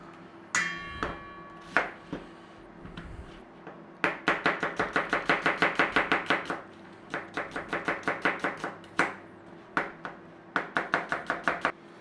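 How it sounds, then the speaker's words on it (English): Knife slicing onions on a cutting board, rapid rhythmic chops in several quick runs with short pauses between, close and crisp, no talking. "So just slice up your onions."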